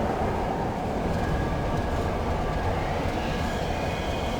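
A rail tram ride in the video game Riven, a steady dense rumbling roll with faint high whines, loud and continuous with no talking.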